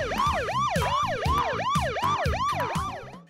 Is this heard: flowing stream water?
no